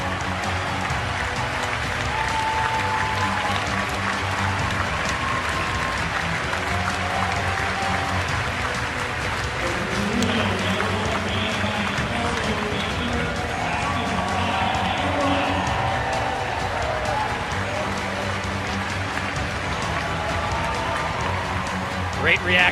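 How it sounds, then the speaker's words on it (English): A large stadium crowd at Hayward Field applauding and cheering after a women's steeplechase race, a dense, sustained roar of clapping heard throughout, with a commentator talking over it. "Great reaction from the crowd here at Hayward Field."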